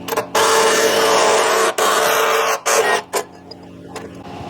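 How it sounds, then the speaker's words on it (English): A 67mm hole saw on a power drill cuts through sheet metal of a Suzuki DA63T kei truck to fit a snorkel, making a loud, steady grinding whine in several bursts separated by brief pauses. "I'm now going to refit my hole saw, but this time I'm going to use my 67mm hole saw"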